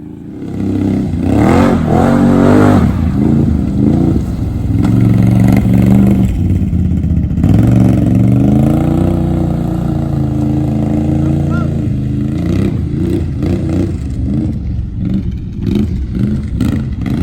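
Engine of a Razor XP motorbike with frame damage, a rough mid-pitched running sound that surges and falls through several revs, close and loud throughout, with people talking over it.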